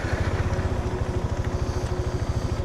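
A 2017 Bajaj Dominar 400 motorcycle engine runs close by with a loud, steady, pulsing throb, heard alone.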